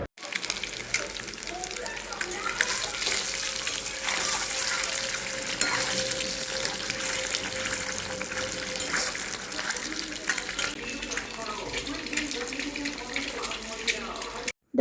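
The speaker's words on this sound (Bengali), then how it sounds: "দেখো আলুটা কষিয়ে নিয়ে জল ঢেলে দিলেই কিন্তু আমার ডিম আলুর ঝোল রেডি।" Potatoes for an egg and potato curry sizzling and frying in a pan, with water poured in, a steady close crackle and splash that continues throughout.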